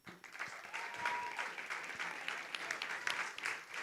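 A round of audience applause at a singing semifinal, sustained, fairly soft clapping from many hands in a hall, rising slightly in the middle and holding steady to the end.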